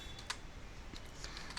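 A command is typed on a computer keyboard in a Linux terminal: a short, quiet burst of scattered key clicks, with a few sharper taps standing out, and no voice.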